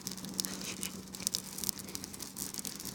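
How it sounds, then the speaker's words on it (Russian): A large bonfire crackles with rapid, irregular pops and snaps over a soft rushing hiss, fairly quiet and close. "Ого, гляньте какой треск."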